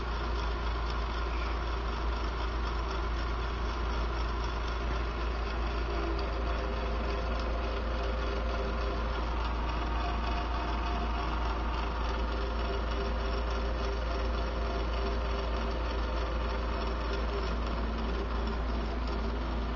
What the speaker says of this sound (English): this generator, this servo motor generator, is helping the drive motor along in some way